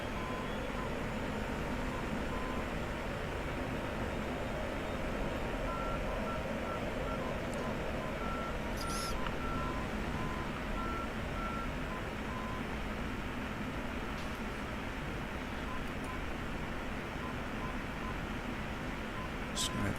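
Repeating cockpit warning tone in an F-16 in the DCS flight simulator: a faint, steady series of short beeps over a constant engine hum, with a few brief clicks.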